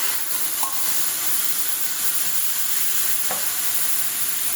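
Shrimp sizzling in a hot frying pan, a loud close continuous hiss with two brief sharp ticks, heard alone without voices.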